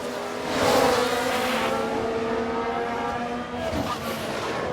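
A McLaren Formula 1 car races in an F1 Manager 22 replay, its engine letting out a loud, high, steady whine that swells briefly and holds, with a faint tire squeal underneath.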